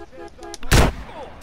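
A single loud shotgun blast in the video game GTA San Andreas cracks sharply over quieter game sounds and faint background noise.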